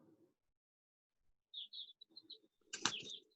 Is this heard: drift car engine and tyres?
no